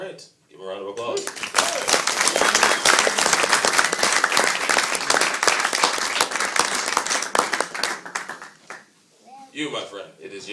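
An audience at a drum clinic breaks into dense, sustained applause for several seconds, loud and close, tapering off at the end, with brief talk before and after.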